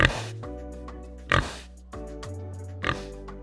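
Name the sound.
pig oinking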